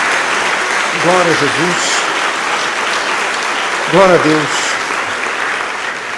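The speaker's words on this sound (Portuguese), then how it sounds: "Uma salva de palmas ao Senhor." A church congregation claps for the Lord, steady close applause while a voice speaks over it in two short bursts.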